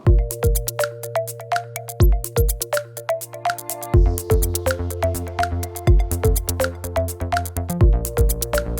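Startup melody of an OPPO Reno 8 Pro 5G phone as it switches on, a bright, tonal chime pattern in repeated rhythmic phrases, loud and close with no talking over it.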